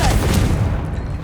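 A Confringo blast spell detonates in Hogwarts Legacy, a loud, booming explosion with a rumbling low-end burst that decays over about a second.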